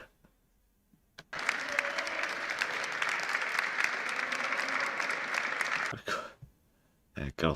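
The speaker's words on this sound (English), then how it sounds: "Thank you, all 7 of you clapping." After a near-silent start, a burst of dense, steady clapping from a small crowd runs for several seconds, then cuts off abruptly and is followed by a couple of brief noises.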